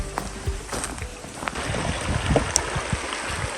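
Low shallow creek water at a stream crossing on West Stony Creek trickles and splashes softly close by, with scattered footstep-like knocks and a faint outdoor background.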